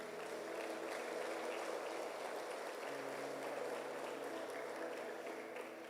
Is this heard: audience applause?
yes